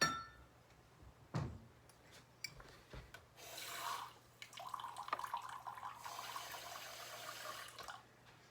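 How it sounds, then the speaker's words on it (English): A third of a cup of water poured into banana bread batter in a home kitchen, a faint soft trickle and rubbing sound lasting several seconds after a couple of small knocks. "So we're gonna add 1/3 cup of water."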